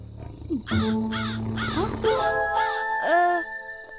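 A cartoon crow caws in a rapid series of five or six harsh, rasping calls, loud and close, ending with a higher bent note; no talking over it.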